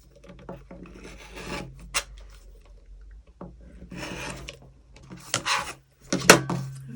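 Scraping and rasping strokes of a rotary cutter trimming small fabric quilt pieces on a rotating cutting mat, coming in irregular bursts with sharp clicks and handling knocks in between, close and fairly quiet.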